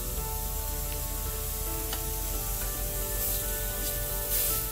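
A seasoned burger slider patty sizzles in a hot pan: a steady, close, broadband hiss with occasional faint crackles and pops, continuous throughout and heard alone without talk.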